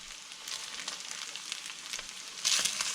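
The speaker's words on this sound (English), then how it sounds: "In goes the burger." Flour-coated hamburger meat frying in a pot outdoors, a close crackling sizzle with scattered pops that grows louder near the end, no voices.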